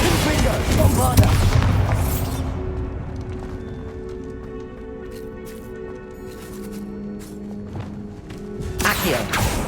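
A Bombarda explosion spell cast in Hogwarts Legacy bursts loudly at the start, its deep boom dying into a low rumble and hum before another impact near the end; a voice speaks over the opening.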